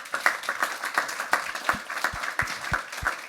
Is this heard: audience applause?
yes